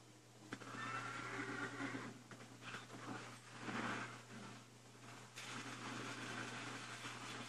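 The Crusader's horse in Diablo III: Reaper of Souls lets out a loud neigh and whinny over game noise and a low steady hum, with clattering effects around it and no speech.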